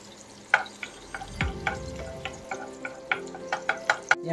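Butter sizzling in a hot frying pan, a steady soft crackle with sharp spattering pops and occasional stirring clinks throughout, close and fairly loud, with no talking.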